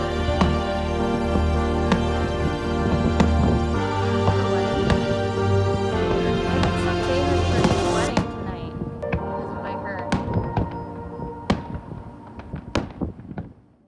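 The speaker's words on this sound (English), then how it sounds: "we were surprised with a fireworks show right off the bow of our boat." Fireworks bursting over the water off a boat's bow near Block Island in the early morning, a dense roar of booms and crackles that thins after eight seconds into scattered sharp pops and thuds.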